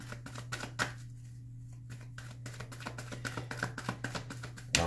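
Tarot cards are handled and drawn from a deck, heard as a close, quiet run of soft card slaps and riffles over a steady low hum.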